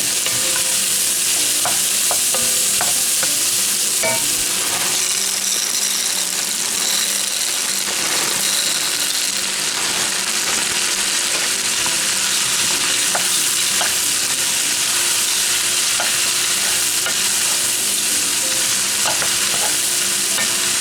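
Celery and frozen corn warm in about half a stick of butter in a pot for a Southern country vegetable soup, giving a steady, close sizzle with occasional stirring scrapes throughout and no talking.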